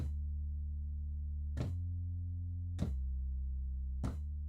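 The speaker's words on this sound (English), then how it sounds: "it's a sub synth sine wave bass kind of thing" A sub bass synth sine wave plays a steady low drone, shifting pitch in three clicked steps about every second and a quarter, quiet and alone.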